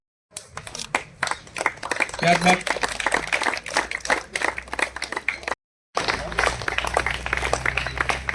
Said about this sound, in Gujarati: સેવાનું સન્માન થતું હોય આપણે તાળીઓથી વધાવ